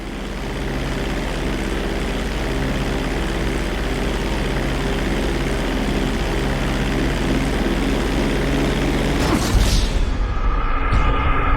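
A small propeller airplane in GTA 5 drones steadily through a flight-school takeoff, its engine a loud, continuous hum with a shift in tone near the end as it climbs away.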